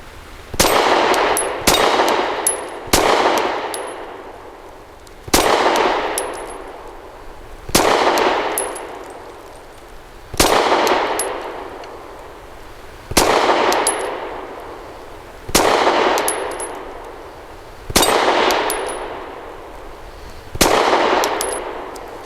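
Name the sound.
pistol shots hitting a moving steel target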